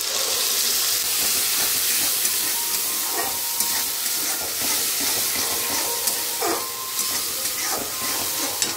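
Green chillies, garlic and tomato go into a pan of fried small mourola fish for a Bengali chorchori, producing a continuous loud sizzle and hiss with small crackles and stirring scrapes throughout.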